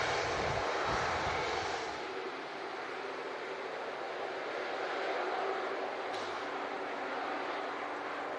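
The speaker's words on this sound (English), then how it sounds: "Aer Lingus to Dublin, lining up." Aer Lingus airliner bound for Dublin lining up on the runway at Manchester Airport, a steady, moderately distant jet engine roar that holds throughout.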